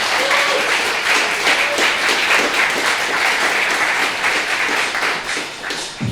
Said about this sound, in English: And again, huge round of applause.